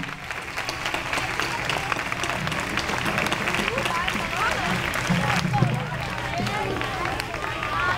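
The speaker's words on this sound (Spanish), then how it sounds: "darle un fuerte aplauso a los que sí participaron" Audience applause for performers at an outdoor vallenato festival, sustained clapping from a crowd mixed with cheering and chatter, steady and fairly loud throughout.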